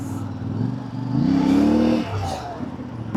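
A CFMoto MT 450 motorcycle engine pulls through traffic, revving up in a rising whine that peaks mid-clip, then eases off before picking up again, close and fairly loud.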